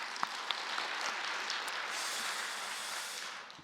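A church congregation at a Korean early-morning prayer service claps for the Immanuel choir, a steady, moderately loud wash of applause running for several seconds, with a few sharper claps near the start.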